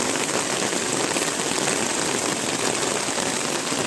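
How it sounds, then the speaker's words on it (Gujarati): Steady morning rain falls continuously, a dense even hiss of drops on surfaces close by, with no pauses and no voices. "આ જો સવાર પોરમાં વરસાદનું વાતાવરણ જોઈ શકો છો તમે."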